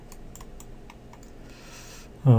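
A computer keyboard clicks several times in an uneven rhythm while working in Autodesk Maya 2015, quiet and close, followed by a short soft hiss and a sudden louder burst at the very end.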